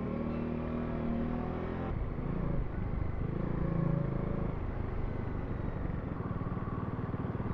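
An orange Ducati Scrambler motorcycle engine rumbles close by with traffic noise as it passes, the drone shifting in pitch while it goes by, no talk.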